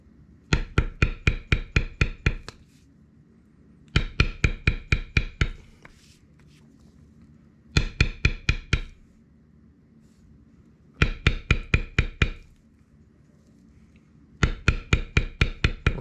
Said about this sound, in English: Always bevel the opposite side of the line.